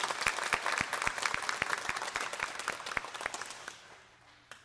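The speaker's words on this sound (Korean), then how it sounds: "큰 박수로 좀 함께 격려하면 좋겠습니다" A church congregation at an Easter Sunday service claps for two youth ministers, a sparse crowd of distinct hand claps that thins out and fades away.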